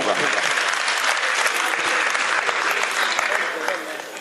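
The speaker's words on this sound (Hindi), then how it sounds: "अगर आपका आदेश है तो जोरदार तालियां बजाइए" Loud, dense applause from a large audience at a Hindi kavi sammelan poetry gathering in Pant Nagar, sustained and steady before easing slightly at the end.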